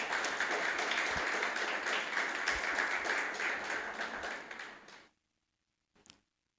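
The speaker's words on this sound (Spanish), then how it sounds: "Vamos a dar un aplauso al Señor" A church congregation gives steady applause during a service, sustained clapping that tapers off and stops, followed by silence and one faint knock.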